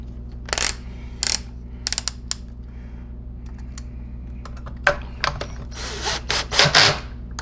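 Screws being driven into a Sanitaire S649 upright vacuum during reassembly, heard as scattered sharp mechanical clicks and ratcheting bursts over a steady low hum, louder and busier toward the end.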